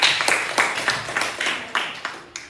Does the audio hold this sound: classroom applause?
yes